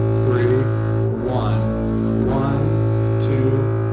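Double bass bowed with uneven bow distribution, a deep sustained tone in a repeating three-beat pattern, each long stroke followed by a quicker return bow, while a voice counts along over it.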